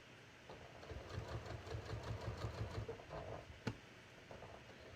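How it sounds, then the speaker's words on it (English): A sewing machine understitches a jeans pocket lining, giving a quiet, close, rapid rhythmic whirr for a few seconds that ends with a small click, then faint handling. "So I'm just going to sew here"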